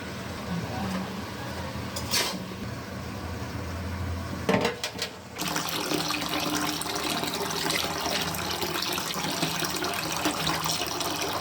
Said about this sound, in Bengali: মাছগুলোকে ভালো করে ধুয়ে নিচ্ছি।